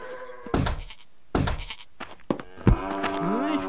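Sheep in Survivalcraft 2 bleat twice in drawn, wavering cries, close and fairly loud, broken by a few dull thumps from the game.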